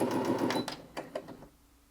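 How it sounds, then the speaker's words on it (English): A Brother Innov-is A50 sewing machine runs from its start button, a quick close burst of needle stitching that slows and stops within about a second and a half, leaving near silence. "press the button once to start sewing and press it again to stop sewing"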